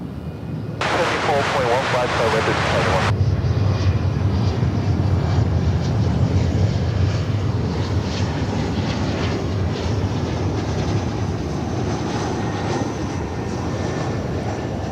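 A Japan Airlines Boeing 777 arriving at DFW airport gives a loud, steady jet engine roar that fills the whole stretch, close and sustained, with a brief burst of radio chatter near the start.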